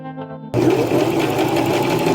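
A sewing machine runs steadily, stitching the pinned tops of a dress sleeve together, loud and close after a brief quieter start with a hum, with no talk.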